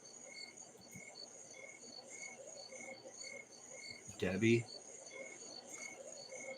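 Crickets chirp steadily through a summer night in a continuous high pulsing drone, with a brief louder burst of voice or noise partway through.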